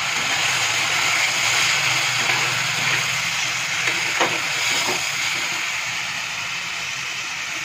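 Spice paste frying in a pan over a gas flame while cooking a village-style banana stem curry, a steady close hiss and sizzle with a few faint stirring taps, no voices.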